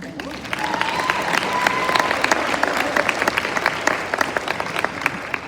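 A cheering section gives a poetry award winner steady, dense applause at the 2023 William Faulkner Literary Luncheon, with many hands clapping close by and filling the room throughout.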